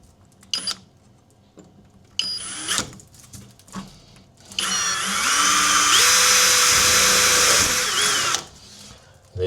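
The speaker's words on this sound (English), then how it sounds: "So all I'm going to do is drill these in," Power drill driving screws into a wall during a leaking shower repair, with short bursts and a sustained whining run that rises in pitch and stops, among brief clunks and handling noises.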